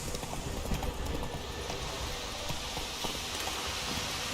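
Roach the horse galloping in The Witcher 3, rapid rhythmic hoofbeats pounding close and continuous over a soft rain-like hiss.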